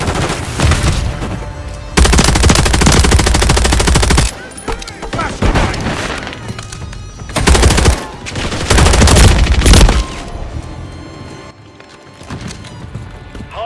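Gunfire in Call of Duty Modern Warfare 3 multiplayer, dense loud bursts of automatic fire in long stretches broken by short gaps, with game voice callouts and chatter mixed in.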